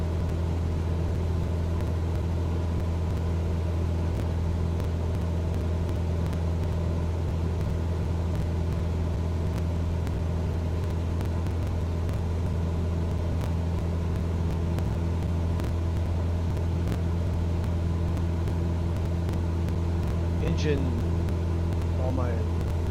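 A Cessna 172 piston engine drones in Microsoft Flight Simulator 2020, a steady loud hum with strong low tones held constant throughout, no talking.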